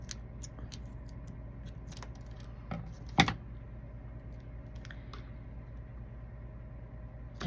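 A small piece of craft material cut with scissors, a run of crisp close snips and clicks with one louder snap near the middle, quiet background, no talk.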